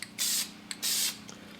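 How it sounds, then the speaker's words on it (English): Two long hissing bursts of Dupli-Color vinyl and fabric spray paint applied to a car interior part, each about a third of a second, with a short puff between and a faint third puff after. "So I'll continue spraying these"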